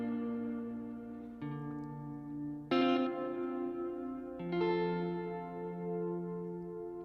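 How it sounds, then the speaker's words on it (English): Sustained guitar chords through a Sloer Stereo Ambient Reverb pedal, drenched in long, murky reverb, each new chord swelling in over the lingering wash of the one before, with no talking. "we're making the reverb last longer without touching the decay knob"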